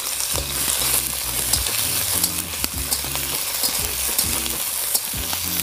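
Chopped onions sizzling in hot oil in a pan while making pasta, a steady loud frying hiss with rhythmic scraping stirs throughout, close up.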